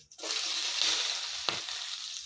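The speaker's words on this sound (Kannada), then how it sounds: "ಆಮೇಲೆ ಶುಂಠಿ ಹಾಕ್ಕೊತಾ ಇದ್ದೀನಿ ನೋಡಿ," Chopped ginger hitting hot oil in a pan for a capsicum dahi gravy, giving a steady, loud, close sizzle throughout with one brief sharp crackle partway through.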